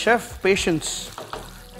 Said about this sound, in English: I am frying them